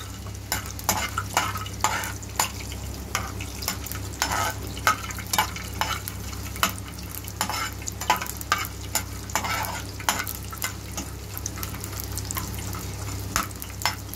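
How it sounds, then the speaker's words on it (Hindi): Whole almonds frying in hot ghee, a steady soft sizzle broken by repeated clinks and scrapes of a spoon stirring them in the pan, close and fairly quiet. "ये घी गर्म हो गया मैं इसमें डालने लगी बादाम ये साबुत बादाम"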